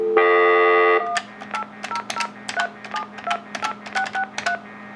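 Touch-tone dialing on an early-1990s Panasonic Easa-Phone: one long steady tone, then a quick run of about a dozen short, crisp beeps at varied pitches, loud and close with no talk.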